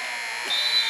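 A basketball game's end-of-half buzzer in a high school gym, a steady tone starting midway through and sounding loudly over the crowd's hubbub.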